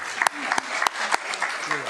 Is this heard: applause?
yes